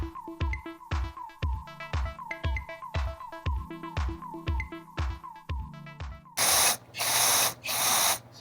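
Fuel injector from a 2005 Volvo S80 2.5T being cleaned and tested fires in a fast regular ticking pulse for several seconds, then sprays in three loud hissing bursts, close up with no talk.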